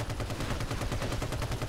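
Rapid automatic fire from a gunner's new 100-round weapon in the video game Battlefield Heroes, a dense, steady burst of close, loud shots continuing without pause.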